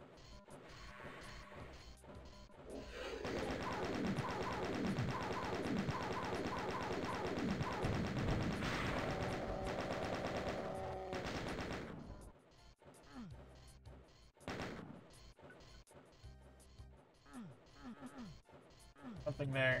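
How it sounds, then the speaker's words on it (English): Rapid chain gun fire in Doom 2 on PC, a dense stream of crackling shots for several seconds, followed by scattered impacts and crashes; talk is heard around it. "Just a chain gun?"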